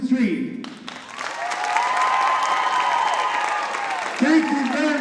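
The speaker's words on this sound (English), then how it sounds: "a round of applause for putting on a good performance for you this afternoon" Audience applause at an afternoon powwow after the dancers and singers bow to the crowd: a dense, steady round of clapping swells and holds for about three seconds, with a voice speaking briefly before and after.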